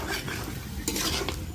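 Mutton is stirred and sautéed in a pan, a dense, close sizzle mixed with the scrape and clink of a utensil against metal, continuous through a short stretch with no voices.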